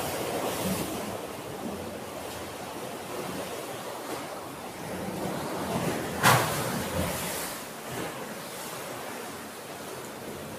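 Ocean waves wash in and splash into rock pockets along a hidden shoreline on Siargao Island's east side at Pilar, a steady broadband roar of surf with one sharper splash near the middle, no voices.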